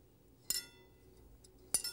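Two bright bell-like chimes from a glass church bell, struck by a clapper as it rotates, about a second apart, each ringing out briefly over a quiet background.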